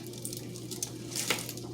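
Beef rib juices poured out of a pan, a short liquid trickle and splash that builds toward the end, fairly close and on its own.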